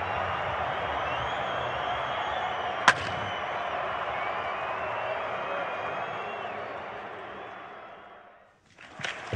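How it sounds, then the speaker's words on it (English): A cricket stadium crowd at a professional T20 league match roars in a broad, sustained wash, punctuated by one sharp crack near the start. The noise fades away before a brief burst of fresh sound at the close. "The crowd is on its feet."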